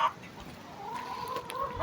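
Hens cluck softly nearby with a drawn-out rooster call running through the middle, in a quiet village farmyard setting while being fed corn.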